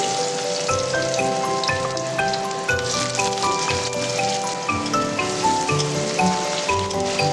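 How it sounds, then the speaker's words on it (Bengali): Potato pieces drop into hot oil already tempered with a dried red chilli and five-spice, giving a dense, continuous crackling sizzle with scattered pops and light clatter, close and fairly loud. "তারপরে একটু 5 ফোড়ন দিলাম। এবার আলুগুলো ছেড়ে দিচ্ছি।"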